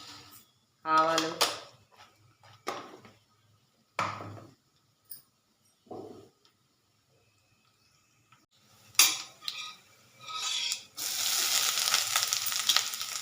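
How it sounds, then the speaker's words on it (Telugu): Mustard seeds, cumin and urad dal sizzle in hot oil for carrot curry, heard as intermittent clatters of utensils followed by a loud, steady frying hiss toward the end. "తాలింపు అంతా వేసేయండి."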